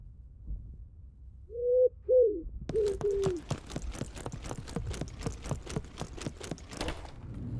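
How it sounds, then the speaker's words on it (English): Messenger pigeons huddled in a cage in a video game coo a few times in soft, low throaty calls, followed by a fast series of sharp clicking or flapping pulses. "About half a dozen messenger pigeons are huddled in the corner of the cage."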